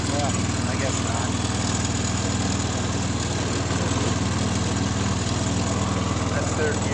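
Small engine of a 110 garden tractor running in third gear, a steady rumbling drone held close and constant throughout with a faint voice underneath.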